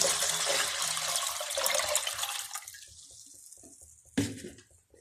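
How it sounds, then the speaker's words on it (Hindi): About 2 litres of water gushes steadily into a cooking pot, then tapers off, followed by a short clunk and quiet trickling. "अब मैं पतीले में पानी डालने लगी हूँ 2 लीटर।"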